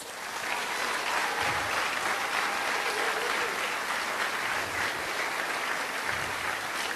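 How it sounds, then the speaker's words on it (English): Sustained applause from the audience at a Pecha Kucha night event, a dense, steady wash of clapping filling the room for several seconds with no talk over it. "Let's give them another big round of applause"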